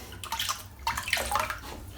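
Synthetic-knot shaving brush dipped and swished in a bowl of water: splashy, sloshing bursts and gurgles close by, repeated in a few uneven pulses with no talking.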